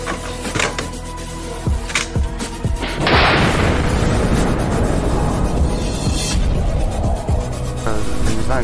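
Mechanical clanks and clicks as a US-made howitzer is loaded, then a single heavy artillery boom on a Ukrainian frontline that rumbles and rolls on for several seconds, loud and close.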